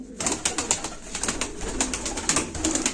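A female göl duman akkuyruk play pigeon coos repeatedly in soft, throaty pulses, close and steady, against a busy background of other birds.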